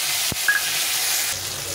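Chopped tomatoes frying in a pan after a tempering of dried chilli, giving a continuous bright sizzle with a brief knock of the spoon early on, heard alone.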